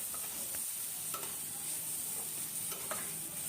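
Long beans being stirred and mixed in a hot pan for a long bean and prawn bharta, giving a steady, close sizzle with faint scraping from the stirring that goes on without a break.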